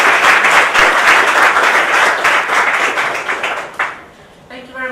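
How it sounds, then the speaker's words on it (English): A seminar audience breaks into dense, loud applause of many clapping hands, holding steady for about four seconds before fading out, with a brief voice starting at the end. "Please give a round of applause for Dr. Cristina Genopapa."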